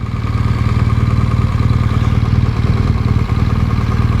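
Motorcycle engine idles steadily up close, a loud, even, throbbing rumble with no voices, while the bike is parked at a slant on a city street in America.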